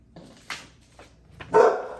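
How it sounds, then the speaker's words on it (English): A dog barks a few times nearby, short sharp yips ending in one louder, longer bark. "It's barking at the birds right now."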